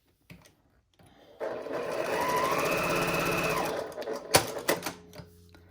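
A sewing machine stitches a quarter inch seam in one close, steady burst of rapid whirring that lasts about three seconds, followed by a few clunks and handling noises.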